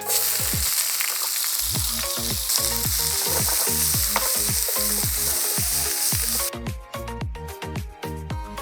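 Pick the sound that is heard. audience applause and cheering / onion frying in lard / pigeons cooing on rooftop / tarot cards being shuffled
onion frying in lard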